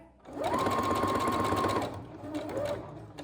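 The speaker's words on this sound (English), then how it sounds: "we're sewing round the semicircle just how we've pinned it there" A sewing machine stitches round a pinned semicircle of fabric for Easter bunting flags, a close, steady whirring run of over a second followed by a shorter burst.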